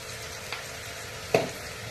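Ivy gourd curry stirred in a pan after chili powder goes in, a soft continuous sizzle with two brief scraping strokes of the spoon, close and fairly quiet.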